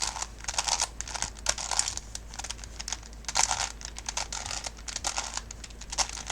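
A 5x5 Pyraminx puzzle being turned by hand, rapid plastic clicks and clacks in quick irregular bursts, close and fairly quiet.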